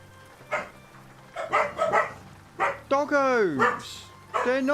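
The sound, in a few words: dogs barking across the road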